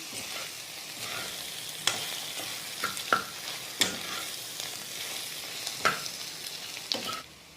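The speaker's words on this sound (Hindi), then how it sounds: "मसालों के साथ अरबी को 2 मिनट के लिए और पका लेंगे हम" Taro (arbi) cooking in a pan with spices and crushed roasted kasuri methi: a steady soft sizzle broken by repeated sharp scrapes and taps of a spoon stirring, close and fairly quiet, with no voices.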